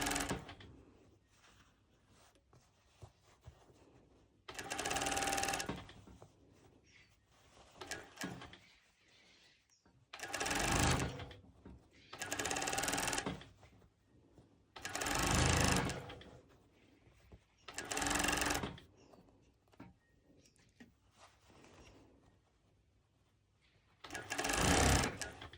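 A sewing machine stitches fabric in repeated bursts, each run lasting a second or two with pauses between, close and loud against a quiet room.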